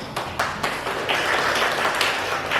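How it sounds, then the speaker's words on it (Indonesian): Sunday school children clap their hands, a few sharp claps at first building into steady, moderately loud clapping with no talking over it. "semuanya tepuk tangan"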